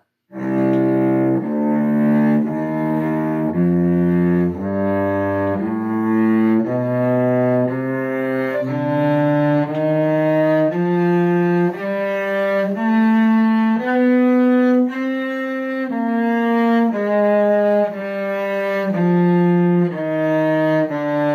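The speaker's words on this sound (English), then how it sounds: "go ahead and join me on the melodic minor, or C melodic minor" A cello plays a C melodic minor scale in fourth position, bowed one note at a time, rising steadily and then descending, alone and sustained.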